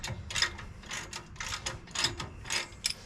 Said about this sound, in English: You want to make sure that your ratchet is completely engaged with the socket and that the socket's completely on the bolt head.